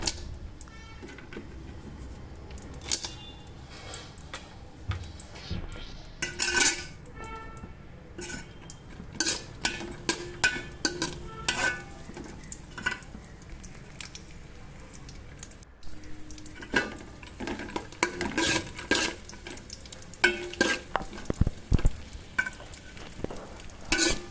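Cashews and raisins fry lightly in hot ghee, a soft, steady sizzle broken by frequent metallic scrapes and clinks of a spatula against the pan, close and without speech.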